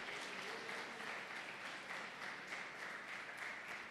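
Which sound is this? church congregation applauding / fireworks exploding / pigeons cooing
church congregation applauding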